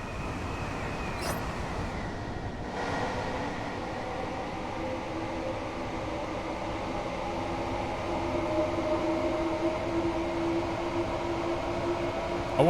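Simulated train running in Train Sim World 2: a steady low rumble of rolling stock, a few brief squeals and tones early on, then sustained whining pitches building in the later seconds.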